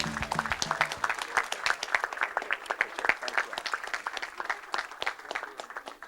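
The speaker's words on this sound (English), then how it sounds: "Let's give him a round of applause," An audience claps for a speaker at a Houston Hispanic chamber event, a moderate round of applause with distinct individual claps audible, steady throughout and fading slightly toward the end.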